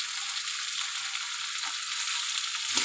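Spices with turmeric, cumin powder and salt sizzle steadily in hot oil in a pan for a tilapia fish curry with yardlong beans and potato, a continuous close crackling hiss with no voices.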